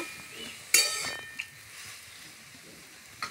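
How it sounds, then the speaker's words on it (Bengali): Tomatoes fry in oil with five-spice seeds, a soft continuous sizzle broken by a loud clatter of a utensil against the pan and a couple of lighter taps as they are stirred. "প্রথমে তেলে 5 ফোড়ন দিয়ে টমেটোগুলো দিয়ে দিলাম, নাড়াচাড়া করে"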